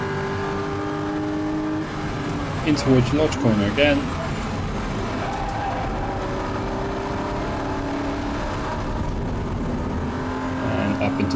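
A Porsche race car laps Oulton Park on a qualifying run, its engine droning steadily with brief tyre squeal as grip fades mid-corner, while a commentator talks over the continuous motor noise.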